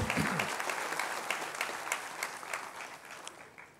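Party workers applauding in a packed hall, a dense burst of clapping that starts loud and slowly tapers over a few seconds, with faint crowd murmur beneath.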